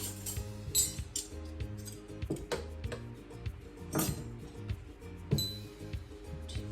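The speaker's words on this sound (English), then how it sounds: "Okay, so I've got some cutlery." Metal cutlery clinks and rattles while being packed into a sewn fabric picnic cutlery roll, with several bright, close chinks and taps spread irregularly over a few seconds.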